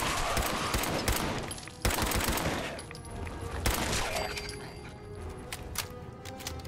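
Rapid automatic gunfire from a weapon in Fallout 4 hammers loud and close, firing in dense continuous bursts with brief gaps, then thinning into scattered shots and clinks toward the end.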